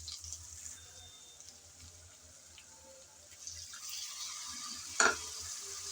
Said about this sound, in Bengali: এখন সব মশলা একসাথে ভালোভাবে নেড়েচেড়ে কষিয়ে নিতে হবে।